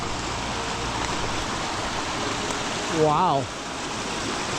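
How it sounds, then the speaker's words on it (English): Kenmere Falls, an off-track waterfall in Tasmania, pours with a broad, steady rushing roar that fills the clip, close and loud; a person briefly exclaims over it. "This is a less official waterfall"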